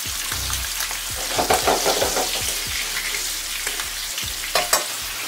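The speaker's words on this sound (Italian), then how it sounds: "Facciamo rosolare entrambi i lati." Pork fillets browning in olive oil in a pan, a steady close sizzle with soft stirring scrapes and small pops throughout, no voices.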